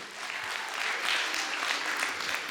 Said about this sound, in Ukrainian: Давайте поаплодуємо Микиті.